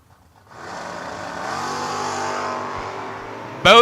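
A 1970 Camaro launches at a drag strip, its engine rising from quiet into a loud, sustained revving roar as it pulls away, ending with a sharp burst of noise.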